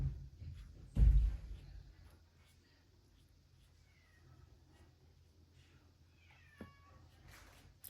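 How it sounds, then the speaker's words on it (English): A cat meows a few times indoors, quiet and fairly distant, with soft background noise and a louder knock early on. "Can you hear the cat meowing?"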